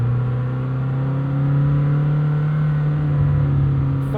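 A 2026 Lamborghini Temerario, the 907 hp hybrid, held in first gear with a steady, loud engine drone whose pitch rises slightly toward the end, heard close and alone.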